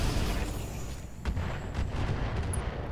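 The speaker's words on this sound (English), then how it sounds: "we're almost into SRM range anyway, so let's fire this turret" Mech weapons fire at a turret in the Roguetech mod of BattleTech, heard as a dense rumbling barrage with booming impacts around the midpoint and again near the end.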